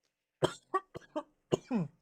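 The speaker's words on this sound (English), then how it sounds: "Sorry, bad time for a cough." A short fit of coughing, about five or six harsh bursts in quick succession, close to the mic with no talking.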